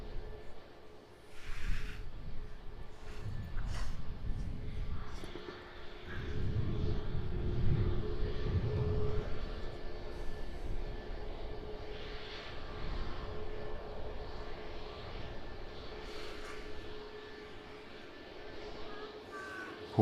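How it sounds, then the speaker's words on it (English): A Jet2 Airbus A321neo airliner at Edinburgh Airport gives a steady, distant engine roar that swells and fades over about twenty seconds, with people talking faintly beneath it. "We're looking at Jet2 flight 705 off to Lanzarote"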